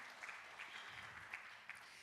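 Clapping from a church congregation during a Saturday service forms a soft, fairly distant wash, with a few sharper individual claps standing out along the way.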